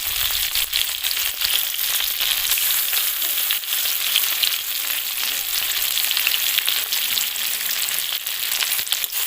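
Ground masala paste of cumin, coriander, ginger, green chilli and dried chilli frying in a pan for a village-style catfish and mango dish, a dense, continuous hiss with soft stirring scrapes throughout and no voices.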